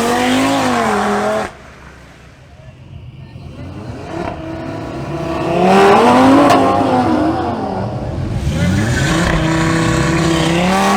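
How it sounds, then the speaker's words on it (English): A BMW X6 M50i and an Audi RS3 launch in a drag race, engines roaring loud and near, revs climbing and dropping through gear changes before a sustained high-pitched pull as the cars accelerate away. "we move on to the next matchup between Jose Barron in his BMW X6 M50i versus the Audi RS3 of Manuel Ortiz"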